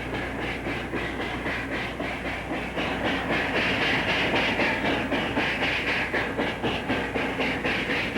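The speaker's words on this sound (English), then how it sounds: "With diesel power on the head end and the 3610 and 3613 helping, an eastbound tonnage freight struggles up the pass" An eastbound Rio Grande tonnage freight struggles up the pass, diesels at the head end and steam locomotives 3610 and 3613 helping, a loud steady roar with rhythmic chuffing exhaust beats and clattering wheels, no talk.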